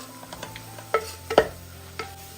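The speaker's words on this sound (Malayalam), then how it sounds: "പൊടിയുടെ പച്ചമണം മാറുന്നവരെ ഒന്ന് ജസ്റ്റ് ഒന്ന് ഇളക്കി കൊടുത്താൽ മതിയാവും" A spoon scrapes and stirs spice powders with turmeric in a hot pan, several distinct clacks over a faint sizzle.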